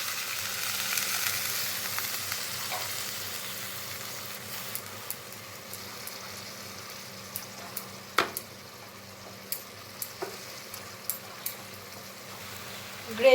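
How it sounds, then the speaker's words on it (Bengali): Pointed gourd (potol) gravy with spices coming to a boil in a pan: a soft, continuous sizzle and bubbling, fading a little, broken by scattered faint ticks and pops, close up with no talking. "গ্রেভি ফুটে ওঠা শুরু হয়েছে"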